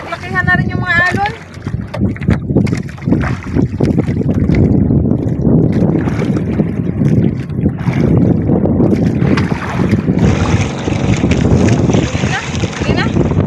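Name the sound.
strong wind and waves on a boat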